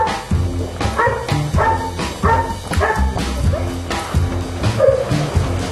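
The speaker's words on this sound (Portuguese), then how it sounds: "Este é o Wisdom, um Golden Retriever de 1 ano que está sendo treinado para ser um cão de assistência" A one-year-old Golden Retriever in training as an assistance dog lets out repeated barks and yips in a steady rhythm, close and loud, with a whimper near the end.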